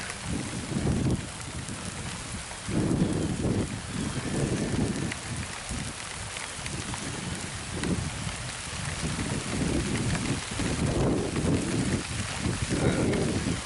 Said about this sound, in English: Camera out in the rain here.